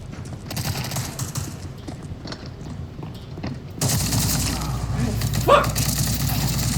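Bursts of gunfire in a multiplayer shooter video game, rapid repeated shots scattered under excited player talk, growing denser and louder in the second half.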